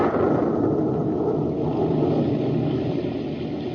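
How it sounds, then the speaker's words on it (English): A deep, sustained rumble rolls on for several seconds, loud and muffled, fading slightly toward the end with no voices. "The rumble you hear is not of the volcano. It is thunder."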